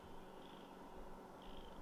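Domestic cat purring close up, a soft, steady low rumble with a gently pulsing rhythm, quiet and alone with no talking.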